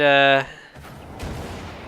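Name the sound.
dramatic explosion in video game Wolfenstein 2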